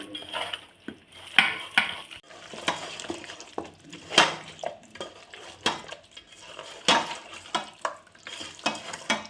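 A chicken biryani mixture with coconut oil is stirred in a pot, giving repeated scraping and clattering strokes at an uneven rhythm, close and moderately loud with a faint sizzle between strokes.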